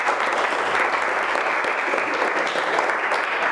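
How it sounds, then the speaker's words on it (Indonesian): Applause fills a classroom for a student at a vocational high school, dense and steady throughout, with no voices standing out. "Tepuk tangan untuk teman kalian."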